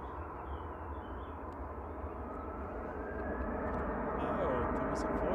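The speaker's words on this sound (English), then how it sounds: "Oh, there was a Voyager went over." A Voyager military aircraft passes overhead near Manchester Airport in the evening, its broad engine roar steady and slowly building, with faint bird calls in the background.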